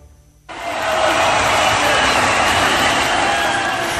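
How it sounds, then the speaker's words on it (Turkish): A studio audience at a Turkish radio show breaks into sudden, loud, sustained applause that starts abruptly and holds steady as a dense wash of clapping. "Evet, alkışlar."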